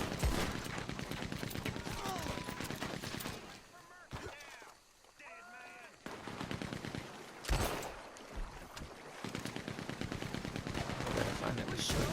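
Bursts of gunfire in the online western game Red Dead Online, dense rapid shots filling most of the stretch with a brief lull in the middle, and a person talking over it.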